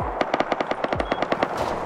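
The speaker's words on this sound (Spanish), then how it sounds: "esta gente no vea la de tiros que se están pegando" Automatic gunfire in the survival video game Rust, a rapid burst of about a dozen evenly spaced shots, loud and close, with no talking.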